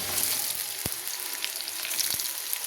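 Pre-fried pointed gourd dropped into a pan where cubed potatoes are frying in oil in a home kitchen, bringing a steady close sizzle with a couple of brief knocks, no voices.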